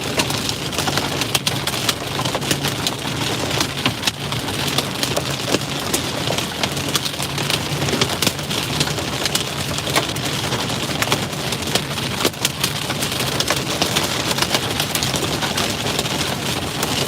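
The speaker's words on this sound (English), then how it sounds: "Starting to get some hail now." Heavy rain mixed with hail pounds a storm chaser's vehicle in the NE Panhandle, a dense, loud and steady drumming with a low engine idling underneath.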